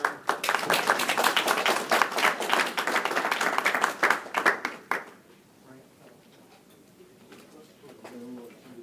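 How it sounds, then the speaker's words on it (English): Dense, steady audience applause at an energy conference session fills the first five seconds, then stops abruptly, and quiet talk follows. "a round of applause for our"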